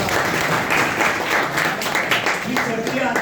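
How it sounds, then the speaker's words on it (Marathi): Crowd applause at a public gathering, dense clapping filling the whole stretch at steady strength, with voices talking over it. "टाळ्या तर वाजवा भाऊ"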